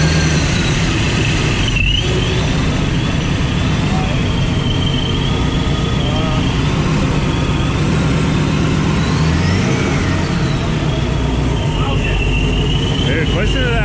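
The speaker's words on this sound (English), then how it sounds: "Dude, listen to that blower." A 7.0L LTX V8 fitted with a ProCharger race blower runs steadily at idle, a loud continuous engine drone with a rising and falling supercharger whine over it, while people talk nearby.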